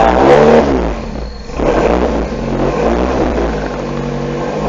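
Freshly rebuilt car engine on its first start, struggling to hold idle, revs loudly and close up, surging and sagging as the throttle is worked.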